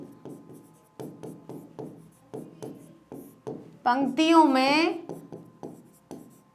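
Scratchy, rhythmic strokes of writing a definition on a classroom board, repeated in short bursts close by, with a teacher talking over them.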